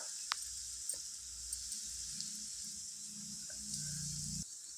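Bread slices frying in oil in a pan on a gas stove, a steady soft sizzle with faint hiss and a few small clinks and taps, quiet and continuous throughout.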